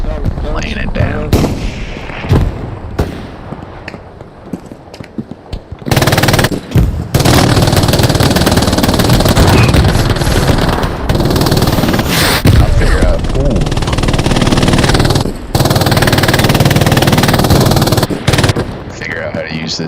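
Machine gun fire in Hell Let Loose, loud rapid bursts that stop and restart, with a brief lull early on, mixed with other battle noise and voices talking.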